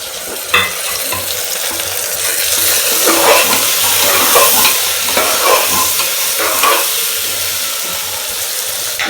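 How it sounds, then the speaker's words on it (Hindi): Chopped tomatoes added to a hot pan for Sindhi-style rajma masala, sizzling and frying loudly with repeated scraping stirs of a spoon, close and continuous, no talking. "इसमें हम अभी ये 2 टमाटर मैंने काट के रखे थे, ये 2 टमाटर मैं डालूंगी।"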